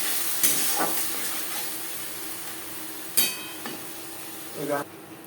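Water splashed into a hot pan of fish egg curry masala with brinjal sets off a steady steaming hiss and sizzle, punctuated by a few sharp splashes and clatters close by.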